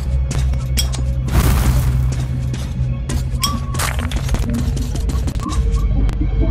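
Monster sounds in the video game Metro 2033, heavy booms, thuds and low rumbling growls over a droning hum, with repeated sharp impacts throughout, loud and close.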